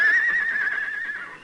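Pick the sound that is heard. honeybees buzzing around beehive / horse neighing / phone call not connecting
horse neighing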